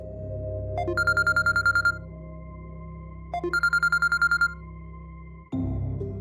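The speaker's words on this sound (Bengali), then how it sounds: "আরে বাবা, এত রাতে কে ফোন করছে?" A telephone rings at night with two bursts of rapid electronic trilling ringtone over a low steady hum, then a sudden louder rustling thump as it stops; no one speaks.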